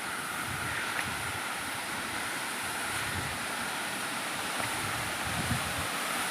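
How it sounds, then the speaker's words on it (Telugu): A waterfall pours down from above between trees in the rain, making a steady, broad roar of rushing water with a breezy hiss and no talking. "వాటర్ అంతా పైనుంచి పడతా ఉంది"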